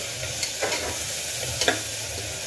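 Tomato and capsicum sautéing in a pan, a steady sizzle with a few scraping stirs of a spoon against the metal, close and moderately loud, with no talking.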